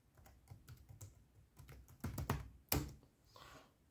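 A Lenovo ThinkPad X230T laptop keyboard gives quiet, close, irregular key clicks with a few sharper, louder taps near the end and no voices.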